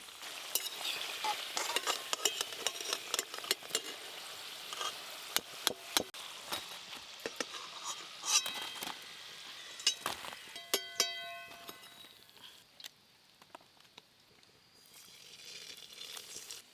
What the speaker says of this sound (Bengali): এই তালের শক্তপুরি পিঠা ভাজতে খুব একটা বেশি সময় লাগে না